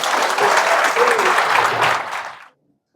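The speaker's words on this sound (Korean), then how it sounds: "큰 박수로 격려하고 마치도록 하겠습니다" An audience at a Korean book concert claps loudly and steadily, a dense crowd applause that fades out and stops near the end.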